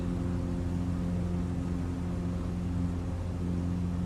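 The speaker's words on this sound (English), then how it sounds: "the engine sounds like it's running fine" Small piston aircraft engine in Microsoft Flight Simulator 2020, a steady low droning hum with even tone, running alone with no speech.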